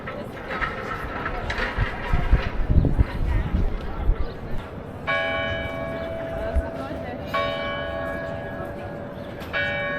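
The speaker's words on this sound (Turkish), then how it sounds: "Bak çanlar çalıyor." Church bells ring out over the Hauptmarkt in Nuremberg near a clock with golden figures, sustained ringing tones entering midway and repeating over crowd noise and people talking.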